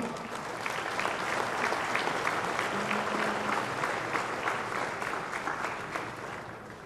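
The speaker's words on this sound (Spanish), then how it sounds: "¡Fuerte el aplauso!" Crowd at a livestock exhibition applauds the grand champion female cow, a steady, dense round of clapping heard from a distance that swells and then gently tapers off.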